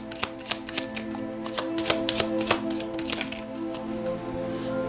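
Tarot cards are shuffled and drawn: a steady run of crisp riffling snaps and flicks, close and fairly loud, with no talking over them.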